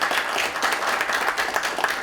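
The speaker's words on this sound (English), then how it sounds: "So I want us to give ourselves a round of applause." Steady, dense applause fills a building launch event, a room full of hands clapping together at even volume for the whole moment.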